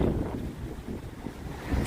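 Strong wind gusting in San Francisco, a steady low roar buffeting the microphone throughout with slight surges toward the end.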